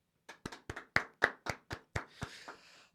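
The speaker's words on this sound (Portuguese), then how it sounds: "E aqui eu quero uma salva de palmas." About ten separate hand claps, sharp and close, in a loose, quickening rhythm and ending in a brief flurry, given as a round of applause for São Paulo footballer Alan Franco.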